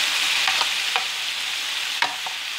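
Steak and mushrooms fry in a pan for a steak, onion and mushroom baguette: a loud, continuous sizzle close up, with a few sharp clicks and pops from a utensil, and no talking.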